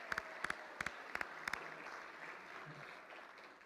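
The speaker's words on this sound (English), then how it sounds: "Let's give them a big round of applause" Brief scattered claps near the start, roughly four pairs of sharp hits over the first second and a half, then a low room murmur as an audience acknowledges event sponsors at a live show.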